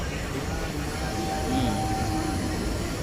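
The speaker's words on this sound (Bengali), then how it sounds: "ট্রেন আস্তে আস্তে যাচ্ছে" A Kolkata local train leaving Howrah creeps along slowly, a steady close rumble with a faint thin squeal running through it.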